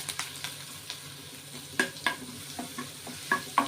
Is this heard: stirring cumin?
yes